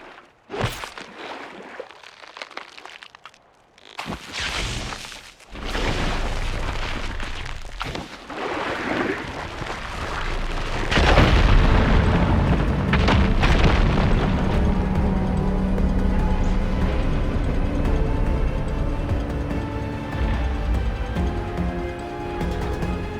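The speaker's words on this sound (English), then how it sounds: "Okay, my fire gleam should clear it." A fire gleam explosion blasts away rubble in Horizon Forbidden West: a sharp crack and deep boom, then a long rumbling roar of crumbling debris that sustains loudly for many seconds.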